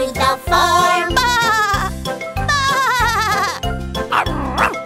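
A sung 'ba ba' bleating imitation of a sheep in a children's farm tractor rhyme, repeated rhythmically over a steady bouncy backing beat with jingling accents.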